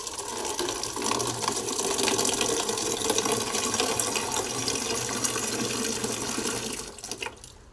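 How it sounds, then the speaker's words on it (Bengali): Water pours steadily into a container holding banana peels, a continuous gushing, splashing flow close by that runs for several seconds before stopping abruptly. "জল দিয়ে দিলাম"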